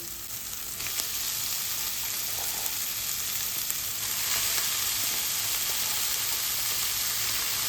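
Cabbage drops into a hot pan for a peanut-cabbage stir-fry and sizzles in a loud, steady, close hiss that holds without a break.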